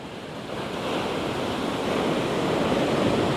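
Ocean surf rolling in steadily at an evening beach where surfers are out far down the shore, a continuous broad wash of breaking waves with some wind noise on the microphone, no voices.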